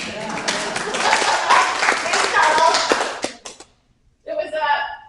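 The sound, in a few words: audience clapping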